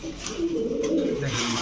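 Pigeons coo softly and repeatedly close by, a low throaty warble rising and falling among birds kept for sale, with no talking over it.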